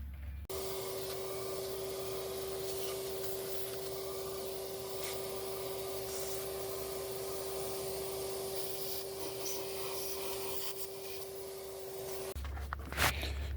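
Steady, continuous whine and broadband rush of a vacuum cleaner running close by while cleaning intake manifold gasket surfaces on a 2005 Honda Accord 3.0L engine, holding constant for about twelve seconds before cutting off.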